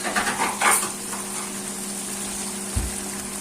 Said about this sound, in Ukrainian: Так, уже отак піджарюється у нас.